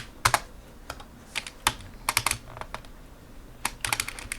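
Typing a router command on a computer keyboard, clusters of sharp key clicks with brief pauses between them, close and clear.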